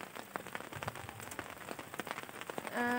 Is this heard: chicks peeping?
no